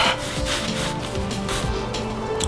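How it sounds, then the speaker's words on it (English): A microfiber rag soaked in alcohol rubs back and forth over a brake caliper from a 1999-2004 New Edge Mustang, giving a close, continuous scrubbing and swishing sound with no talk. "make sure to put it on the rag first, and then just start wiping down."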